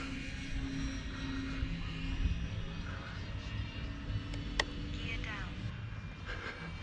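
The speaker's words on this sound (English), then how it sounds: "I'm gonna, in this pass, bring the gear down." An E-Flite P-51D Mustang radio-controlled model airplane makes a flying pass. Its electric propeller gives a steady, moderately loud whine with a brief sharp tone partway through, and a person talks over it.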